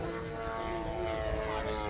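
A radio-controlled model airplane flies freestyle to music at an international airshow in Tampere, its propeller engine giving a steady droning whine that holds at an even, moderate loudness at some distance.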